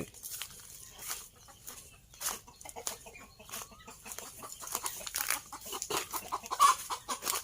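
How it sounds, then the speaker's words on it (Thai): Chickens cluck and call in a backyard garden beside green rice fields in rural Thailand, with scattered close clucks and bird sounds over faint outdoor background noise. "ไก่ร้อง"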